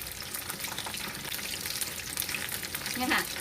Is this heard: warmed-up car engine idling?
no